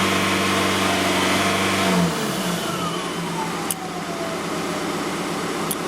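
An Audi A3 engine with a faulty intake flap revs up close, then drops back and settles into a steady idle hum.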